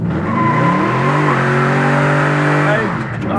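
A 1969 Chevrolet Chevelle SS with a Quicksilver shifter, heard from inside the car as the V8 revs hard under acceleration. The engine roar is loud and steady, its pitch climbing, then falls briefly at a shift near the end.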